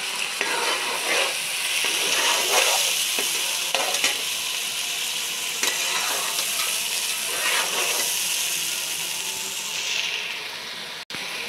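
Pieces of meat fry with garlic ginger paste for shaljam gosht, giving a loud, steady close sizzle with repeated stirring scrapes throughout.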